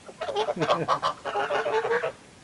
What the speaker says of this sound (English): these are domestic geese, so they will not fly away